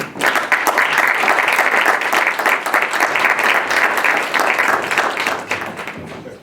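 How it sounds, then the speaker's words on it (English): An audience breaks into loud, sustained applause for a guest speaker, dense clapping holding strong for several seconds before starting to thin out near the end. "everybody give a big round of applause to Mr. Freeman."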